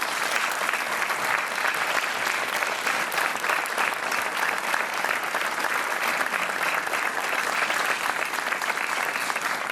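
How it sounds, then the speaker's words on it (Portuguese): A TV game show studio audience applauds in a continuous, even wash of clapping that stays loud and dense throughout without a break. "Um aplauso para o Sérgio"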